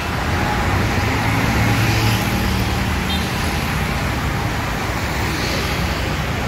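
A Padang bus drives along a straight road, a steady broadband roar of engine and road noise heard from inside, continuous and fairly loud throughout.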